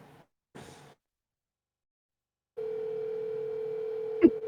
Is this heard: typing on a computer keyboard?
no